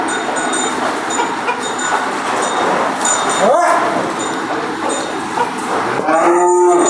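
Cattle moo a couple of times, one low call midway and another near the end, amid a busy background hum inside a cowshed.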